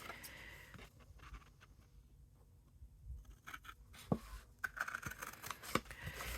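Scissors snip along the cut lines of a paper gift bag template, quiet irregular clicks and crisp cuts, growing sharper and more frequent toward the end.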